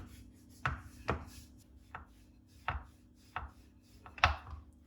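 Knife cuts through flattened bread dough on a board, six or seven distinct dull knocks at uneven intervals, close and fairly soft, with no talking.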